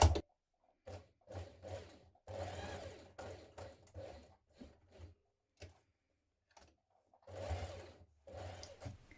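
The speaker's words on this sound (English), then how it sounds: "you can top stitch around the outer edge of your collar" A sewing machine top stitching around the outer edge of a shirt collar, running in short repeated bursts with brief stops between them, fairly close and clear.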